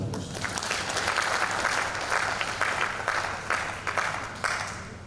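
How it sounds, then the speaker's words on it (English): Audience applauding the captains at a military barracks community parenting panel, a steady, dense wash of clapping from many hands that holds for the whole stretch and eases slightly toward the end. "Shall we please give the captains another round of applause?"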